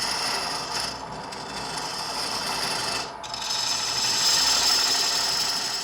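Wood carving tool with a 3/16 bullnose tip braced on a tool rest, cutting into spinning wood with a continuous hissing, raspy scrape that dips briefly midway before resuming stronger.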